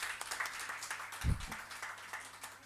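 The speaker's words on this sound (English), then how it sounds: "Can we give them a huge round of applause?" Faint, distant crowd applause at the Bhopal Literature & Art Festival, a continuous soft patter of many hands with one low thump midway.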